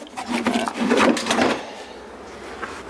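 Cover comes off the CVT transmission of a Polaris side-by-side, with a close scraping, clattering rub of the metal for about a second and a half before it settles into quiet.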